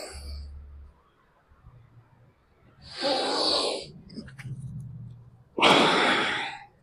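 Slow exhales during a yoga breathing exercise in cat-camel pose: two long, breathy outward breaths, each lasting about a second, close to the microphone with quiet pauses between.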